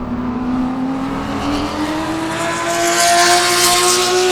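A Sebring GT or Spec Corvette race car roars past on track during a 30-minute race, its engine note loud and close and rising steadily in pitch as it accelerates.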